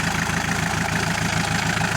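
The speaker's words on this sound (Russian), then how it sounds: "вот видите, что трактор едет, пашет, дыма с выхлопной, как с паровоза, нету" Homemade tractor with an engine from the early 1980s, running at a steady loud idle-like chug with an even rapid pulsing beat, close up and without speech.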